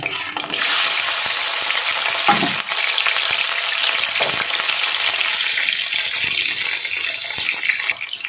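Prawns fry in hot mustard oil in a wok with a loud, steady sizzle. Occasional soft scrapes of stirring sit close by, and no one talks over it.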